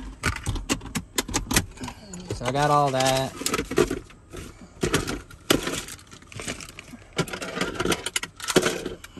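A bunch of keys for a new ignition lock cylinder and matching door locks jangles in short metallic bursts close to the microphone, with someone talking over and between the rattles.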